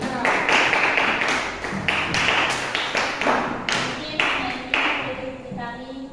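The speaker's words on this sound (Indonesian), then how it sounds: "tepuk tangan dulu untuk kelompoknya Santi" Applause for a student group in a classroom: a burst of brisk, uneven hand clapping from a small crowd, close and fairly loud, mixed with faint voices throughout.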